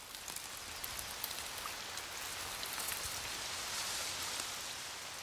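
Rain falls through a forest onto the fine leaves of a giant cedar, a soft, even patter with scattered nearby drips, quiet and steady throughout.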